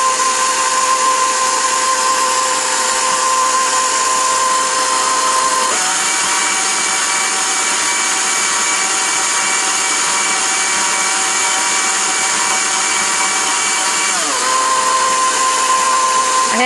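An electric stand mixer with a paddle beater runs steadily while working shortening into flour for tortilla dough. The motor whir is loud and continuous, and its pitch shifts down and back up partway through.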